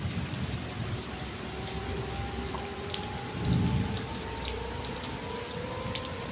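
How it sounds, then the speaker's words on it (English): Steady, faint rain falls on a surface, a continuous hiss with a soft rumble of distant thunder swelling midway, with no voices. "Rain lashed against the windows, and thunder reverberated through the house like an ominous heartbeat."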